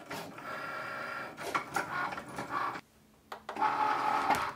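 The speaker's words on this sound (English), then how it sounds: "insert it into your machine and let your machine cut out the design" A Cricut cutting machine cuts a vinyl car decal design, giving a steady motorized whir with shifting buzzy tones as the carriage moves, a brief pause, then more whirring, close up with no talk.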